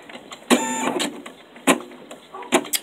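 An embroidery machine stitching onto a toilet paper roll, giving rhythmic mechanical whirring bursts with sharp clicks and pauses between runs, close and fairly loud.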